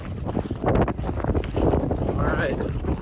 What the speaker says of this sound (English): Oh, it got windy again.